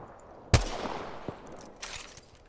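A single loud gunshot rings out in an arena shooter game, followed by a softer shot and faint trailing noise, close and sharp with no talk.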